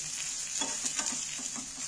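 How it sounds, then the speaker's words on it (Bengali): Eggs fry in oil in a pan with a steady, close, quiet sizzle and a few soft stirring or turning sounds over it. "ডিমগুলো ভাজার জন্য আমি এই প্যানটার মধ্যে তেল দিয়ে দিচ্ছি"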